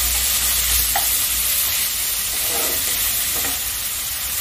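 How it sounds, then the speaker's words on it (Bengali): Onion and garlic frying in a pan for a dried loitta fish dish, a steady loud sizzle with a few soft scraping stirs of the spoon, no voices. "পেঁয়াজ রসুনটা ভালো করে ভাজা হয়ে গেছে"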